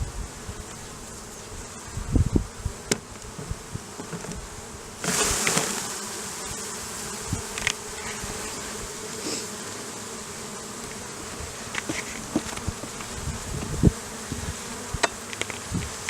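Honeybees buzz steadily nearby as they are shaken off a hive frame into a container, with a constant insect drone and scattered clicks and knocks, no voices.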